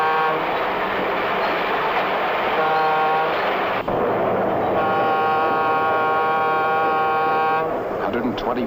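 A 1950s diesel freight train hauling a heavy string of freight cars rumbles steadily under a narrating voice, with sustained horn-like harmonic tones sounding loudly through much of the passage.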